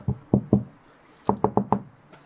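A small door knocker raps on a truck door: three evenly spaced knocks, a short pause, then four quicker knocks, close and crisp against a quiet background.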